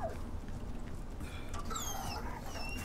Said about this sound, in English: I remember the dog.